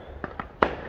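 Fourth of July firecrackers snapping, three quick sharp pops within under a second, the last one loudest.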